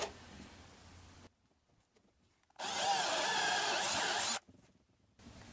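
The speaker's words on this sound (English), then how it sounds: "I'm going to drill a hole for my worm screw to go into." A power drill whirs loudly for a couple of seconds as it bores a hole in spalted oak for a worm screw, with quieter handling noises before and after.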